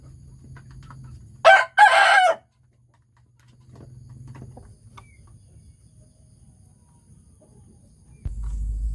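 A village rooster crows twice in close succession, loud and near, on a small backyard free-range chicken farm, with low hum and faint bird sounds before and after.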